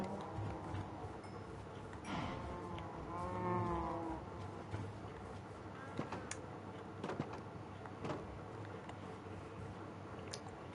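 Cows in the Minecraft video game moo several times, one drawn-out low call standing out near the start, with softer game clicks and a quiet voice underneath.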